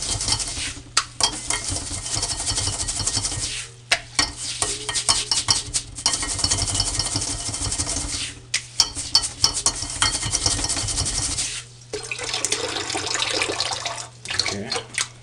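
Continuous sloshing and swirling water as charcoal for a water distiller is rinsed, with rattling and clinking of small hard pieces, nearly nonstop with a few brief pauses, close and fairly loud.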